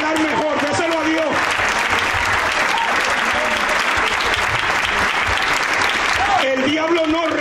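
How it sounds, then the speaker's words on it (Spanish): A church congregation applauds loudly and steadily for several seconds, the dense clapping filling the whole stretch while a voice speaks over the start and end. "Si es para Dios ese aplauso, yo creo que está flojo."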